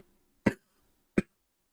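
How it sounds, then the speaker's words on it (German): Two short, sharp coughs from a man, spaced under a second apart, close and distinct against near silence. "Direkt mal husten, ey."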